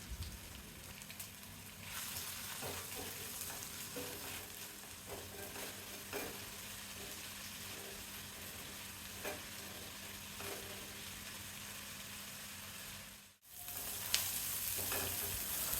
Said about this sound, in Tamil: 5 இல்லை 6 பச்சை மிளகாய், கொஞ்சமாக உப்பு சேர்த்து வதக்கணும்.